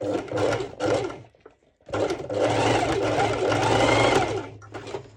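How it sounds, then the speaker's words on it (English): A sewing machine runs in two short bursts, pauses, then stitches steadily at speed, loud and close, with a steady mechanical whir. "my sewing machine is actually quite easy"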